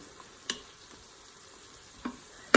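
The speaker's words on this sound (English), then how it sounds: "here are the peppers and the onions and the garlic sauteing" Peppers, onions and garlic sautéing in a pan for a keto chicken fajita soup give a soft, steady sizzle, broken by three sharp pops spaced across the clip, with no talking.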